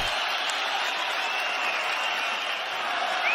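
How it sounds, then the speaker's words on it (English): A large arena crowd at a UFC fight roars in a steady, broad wash of cheering and applause, loud and sustained throughout. "Crowd's getting behind them here."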